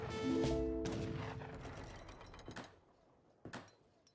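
Faint sharp gunshot cracks from defensive tower fire in an Age of Empires III match, a few isolated reports spaced apart, following a brief tonal game chime at the start.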